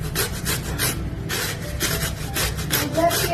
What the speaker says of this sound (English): on a fine grater, grate your cucumber